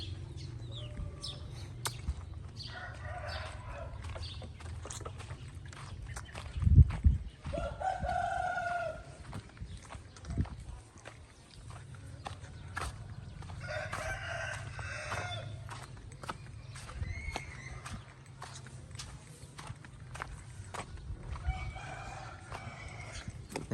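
A fighting cock on a farm crows several times at intervals, each call a drawn-out cock-a-doodle-doo over a low background rumble, with scattered clucks and clicks between the crows.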